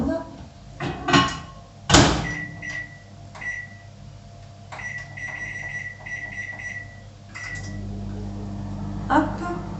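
A microwave oven runs to heat water, starting with a door clunk and a few beeps, then a steady low hum as it operates, close by.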